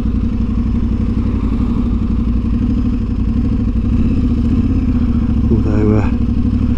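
An Aprilia Tuareg 660 motorcycle engine drones steadily and loudly while riding along the Jurassic Coast, with a rumbling low tone and wind rush throughout.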